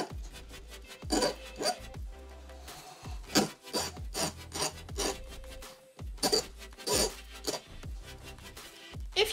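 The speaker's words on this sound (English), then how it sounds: "file those off a tiny little bit now to start off with, so they don't hook" Metal file rasping against silver stud earrings to blunt their sharp points, a run of short rough strokes in uneven bursts, close and fairly quiet with brief pauses between.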